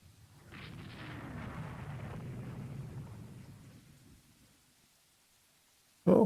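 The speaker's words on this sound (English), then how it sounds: "We ate a couple of torpedoes" A deep, rumbling blast roars for about four seconds as torpedoes strike a warship in the naval strategy game Rule the Waves 3, then fades to near silence before a sharp, loud burst at the very end.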